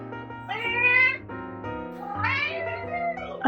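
A house cat meows repeatedly before dinner, several drawn-out, tonal cries close to the listener, one after another with brief pauses.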